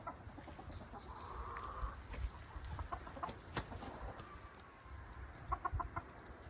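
Roosters in a newly introduced backyard flock cluck and call intermittently outdoors, moderately close, over a steady hiss of ambient noise with no talk.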